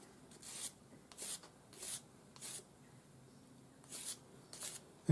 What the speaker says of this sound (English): Tidy up your join with the sanding stick.